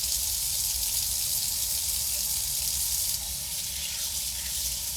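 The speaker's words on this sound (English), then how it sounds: "Rinse your fish off in some cold water, and then pat it dry." Cold tap water runs steadily over a branzino fish in a sink, a continuous close hiss and splash that dips slightly in level partway through, with no talk.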